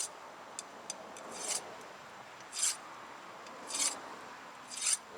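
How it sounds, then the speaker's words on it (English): A hand file rasps across a soft, corroded brake caliper pin from a 2014 Ford F-150 in a salt-belt state, giving four or five distinct scraping strokes at a steady pace, close and fairly quiet. "Anytime you're filing a pin, rotate the pin while you're filing"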